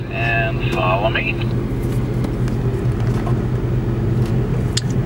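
A Porsche idles and then pulls away with a steady low engine rumble, close and fairly loud, while someone speaks over it briefly at the start.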